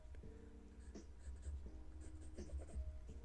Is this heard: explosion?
no